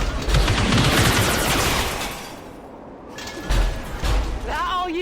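Heavy gunfire in a sci-fi combat video game, with dense rapid bursts of shots and thuds, loud and close, easing off midway and then resuming, with a brief voice-like tone near the end.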